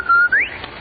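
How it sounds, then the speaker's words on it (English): A sharp two-note whistle from a vintage radio soap commercial, a steady high tone rising into a brighter upward slide, heard alone and fairly loud. "That's the Rinso White whistle."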